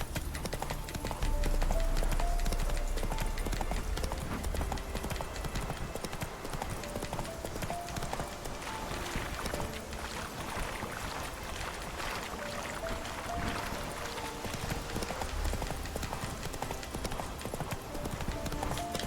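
Steady horse hooves clip-clop at a gallop throughout in The Witcher 3 video game, continuous and close, over a constant ambient wash.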